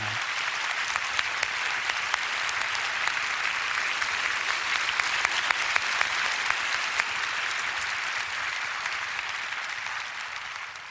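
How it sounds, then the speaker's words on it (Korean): A large gathering at a church prayer event gives sustained applause of comfort and encouragement, dense steady clapping with distinct individual claps popping out, continuing evenly for about eleven seconds with no one speaking. "위로와 격려의 박수를 부탁드립니다."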